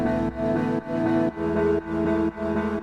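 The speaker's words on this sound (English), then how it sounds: "Next I used the same chords but just chopped them up a little bit." Chopped synth chords for a dance-pop track made in FL Studio: sustained harmonic chord stabs cut into rhythmic half-second pulses with short gaps between, clean and upfront with no voice.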